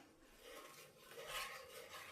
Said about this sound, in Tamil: சக்கரை நல்லா கரையிற அளவுக்கு நல்லா மிக்ஸ் பண்ணிக்கலாம்.